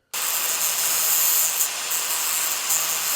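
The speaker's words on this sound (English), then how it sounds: "now got to grind that where it's peened over" A loud, continuous high-pitched grinding whine of an abrasive tool grinding off a peened-over metal edge on a carburetor part, steady throughout after an abrupt start.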